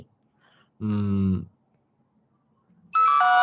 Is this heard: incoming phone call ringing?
yes